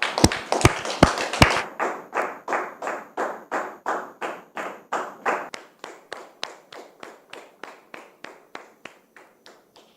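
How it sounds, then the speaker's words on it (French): A studio audience applauds to welcome a female guest onto a talk-show set. There are a few sharp thumps at first, then steady rhythmic clapping in unison that slowly fades over ten seconds, with no talking. "je voudrais vous demander de recevoir ici sous vos applaudissements"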